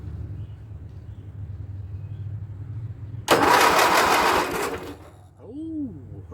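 A Speedex 1631 garden tractor engine that has sat unused for over ten years cranks on its starter in one loud, steady burst lasting about a second and a half, preceded by quieter background rumble.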